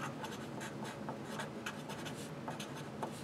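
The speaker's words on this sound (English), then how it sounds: "let's write that down here" A pen writes on paper up close in quick, steady scratchy strokes with short gaps, continuous and fairly faint.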